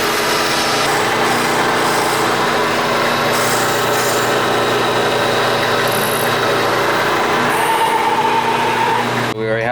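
A rotating assembly for a Mazda engine spins on a balancing machine, making a loud, continuous mechanical whir with a steady drone that holds for the whole stretch.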